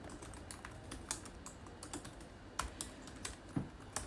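Java code being typed on a computer keyboard, with steady quiet key clicks broken by a few sharper, louder keystrokes, close up and with no voices.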